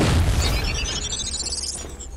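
Explosion in the video game Hard Reset, a single loud close boom at the start followed by a rising glittery electronic sweep and fading rumble.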